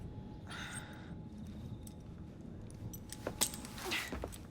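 Keys jangle in the Assassin's Creed Syndicate video game as they are handed over, a short, soft metallic rattle near the end against a low, steady ambient background.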